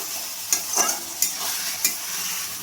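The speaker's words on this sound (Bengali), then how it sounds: "এবার আমি ভালোভাবে নাড়িয়ে নেব।" Dry chilli paneer being stirred in a pan with kasuri methi, a soft steady sizzle broken by a few sharp spatula scrapes and taps against the metal, close and clear with no talking.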